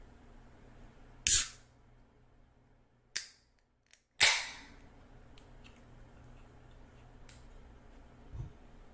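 A can of beer cracks open in a quiet room: a sharp click and hiss, then two more crisp snaps, close and isolated against near silence.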